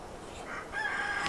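Rooster crowing in a backyard garden, one short crow rising near the end of a brief quiet moment, moderately close.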